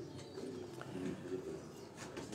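Soft, low cooing from a pigeon kept on a rooftop loft, repeated in gentle rolling phrases against quiet background noise.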